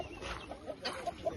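A rooster clucks in short, soft bursts on a farm, a few brief calls close by over quiet background rustle.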